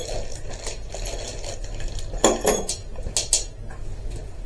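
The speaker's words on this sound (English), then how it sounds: "we got a few different size Allen wrenches here" Metal Allen wrenches for setting up a WEN 9-inch bandsaw are handled nearby, with light clinks and a few sharper metallic taps over a low background hum.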